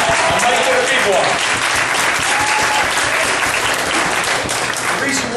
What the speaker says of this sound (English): Can you all give yourselves a round of applause? And make it a big one.